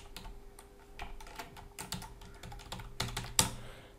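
Rapid keystrokes on a computer keyboard as an FTP password is typed, a steady run of close, crisp clicks with a sharper tap near the end, no talking.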